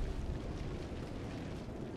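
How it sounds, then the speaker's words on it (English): A big in-game explosion in Defiance rumbles as a dense, sustained roar of low booming noise that fills the whole moment without a break. "Oh yes, Michael Bay explosion."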